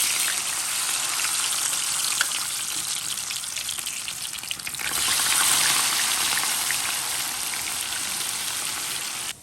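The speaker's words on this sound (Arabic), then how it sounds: "دابا درت الزيت سخنات وغنضيف البطاطا." Potatoes fry in hot oil in a continuous loud, crackling sizzle with a dense rain-like hiss that swells slightly midway before cutting off abruptly at the end.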